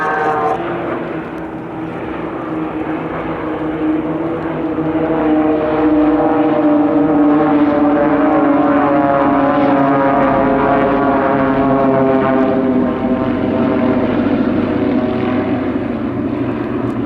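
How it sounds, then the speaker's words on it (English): A Boeing B-17G bomber flies past at an airshow alongside the Red Arrows display jets, a loud, steady multi-engine propeller drone that swells as it approaches and holds at full strength without any talk. "Here come then the B-17 and the blades."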